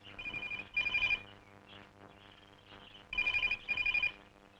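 A telephone rings in two bursts of rapid trilling double rings separated by a short pause, fairly clear and close with a faint background underneath.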